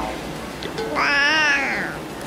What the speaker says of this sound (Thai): This is my best buddy แมว